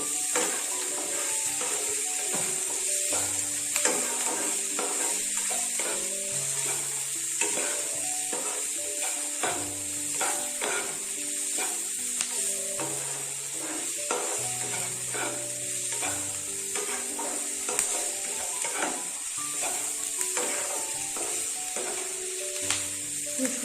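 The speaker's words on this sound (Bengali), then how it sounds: "খুব সুন্দর করে ফ্রাই হচ্ছে" Vegetables fry in a pan for a stuffed potato dish, a steady close sizzle with frequent utensil scrapes and stirring clinks over a background hum, no talking.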